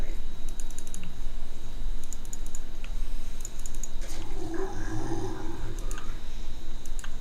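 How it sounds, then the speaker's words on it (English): Fast, continuous clatter of keys on a DOS-style computer keyboard during a StarCraft Zerg lesson, close and busy throughout, with bursts of mouse clicks and a voice talking quietly underneath. "Me, I've got a DOS keyboard."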